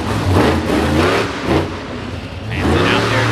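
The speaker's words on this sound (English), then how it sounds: "Listen to the exhaust note on that truck." Monster truck with a bow tie engine revving hard at a Monster Nationals show at the Indiana State Fair in Indianapolis, loud rising and falling exhaust bursts over crowd noise and an announcer talking.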